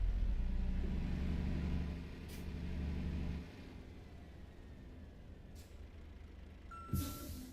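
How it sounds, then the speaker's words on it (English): Heavy delivery truck engine rumbling loudly while driving off a ramp in winter conditions, steady low drone that drops in level partway, with a short hiss of air brake release near the end. "Feel like I got the loudest truck here, and I don't like it. It is the loudest truck."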